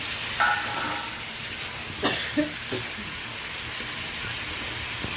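Potatoes and prawns fry in a spice paste, a steady sizzle with a few scraping stirs of a spatula in the pan, close and fairly loud, no voices.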